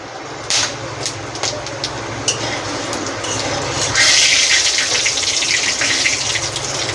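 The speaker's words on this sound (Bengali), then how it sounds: "একটা তেজপাতা, কটা গোটা গরম মশলা, জিরে আর ধনে ফোড়ন দিয়ে দিলাম।" A bay leaf, whole garam masala, cumin and coriander tempering in hot oil for a vegetarian soybean dish. A few sharp clicks and pops come first, then a loud, steady sizzle takes over close by.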